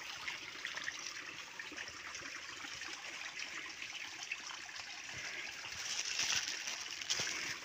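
Small waterfall pouring over the mouth of a cave, a steady broad rush of splashing water that swells slightly louder near the end, with no voices over it.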